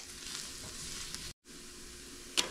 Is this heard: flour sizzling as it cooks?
yes